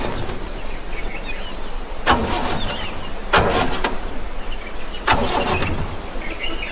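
A car engine cranks and fails to catch, with three short strained bursts of starter noise separated by pauses over a steady background hum.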